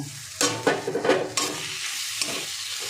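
Boiled, ground fig paste is stirred into spices in a wok, giving several close scraping stirs over a soft continuous sizzle of frying.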